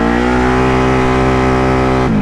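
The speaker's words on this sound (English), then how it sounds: "Exhaust sounds a little different." A Can-Am Outlander ATV engine running with an exhaust that sounds off after riding through mud, a loud close steady drone whose pitch drops sharply near the end as the throttle is released.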